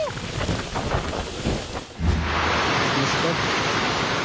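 Super typhoon Uwan batters Camarines Sur in the Bicol region with strong winds and heavy rain, a dense roaring wash of noise that grows fuller and steadier partway through, with a voice heard early on.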